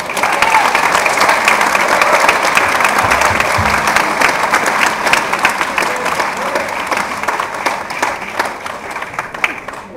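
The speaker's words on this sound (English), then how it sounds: "I think he deserves a serious round of applause." Sustained audience applause fills a hall at a mayoral tribute in Kilkenny for a local legend's 90th birthday, dense steady clapping from a large crowd holding loud for the full stretch before slowly thinning.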